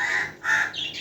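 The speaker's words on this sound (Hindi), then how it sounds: "ये देखिए भाई इस कौवे को" A rain-soaked crow caws outdoors in wet weather, giving a few short, harsh, fairly close calls in quick succession.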